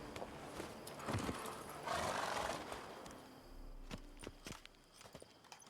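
Hooves of Roach, a horse in The Witcher 3, clip-clop at a walking or trotting pace with a few close, sharp steps over a faint rumbling background and a brief snort-like burst.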